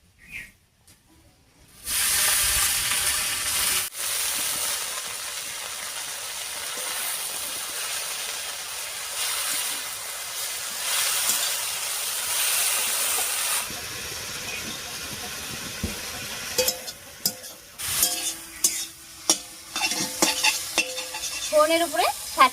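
Sweet potato greens drop into a hot wok and fry with a loud hiss that settles into steady sizzling, then turn into choppy bursts of stirring and scraping toward the end; no one speaks.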